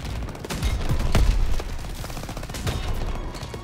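Sustained battlefield gunfire from the World War II video game Call of Duty WWII, a dense crackle of rifle and machine-gun shots with dull low thumps, continuous and fairly close.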